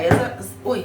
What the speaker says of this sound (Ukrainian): Це телефон отак от лежав, потім він впав так.